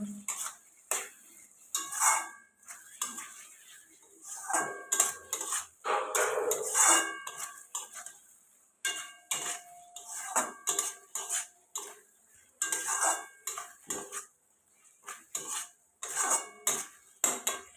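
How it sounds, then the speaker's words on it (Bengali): Fried potatoes being sautéed in spice masala for a crab curry, with a metal spatula scraping and clanking against the pot in repeated rhythmic bursts over a faint sizzle, close and loud. "ভেজে রাখা আলুটা দিয়ে দিলাম দিয়ে আমি ভালো করে কষিয়ে নেব"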